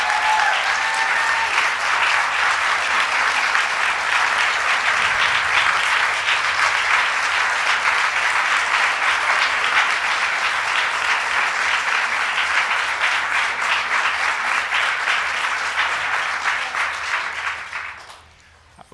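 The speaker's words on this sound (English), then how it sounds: "Let's give Sarah a big round of applause." Sustained audience applause for an invited guest at a live event, loud and steady for about seventeen seconds before fading out at the end, with no talking over it.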